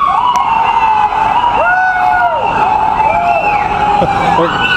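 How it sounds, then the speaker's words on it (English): Several emergency sirens wail together, rising and falling in overlapping tones, loud and close, with traffic noise underneath. "There goes our sirens."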